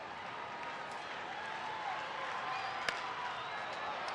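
Baseball stadium crowd of about twenty thousand applauding, a broad, distant wash of clapping and murmur with one sharp crack partway through.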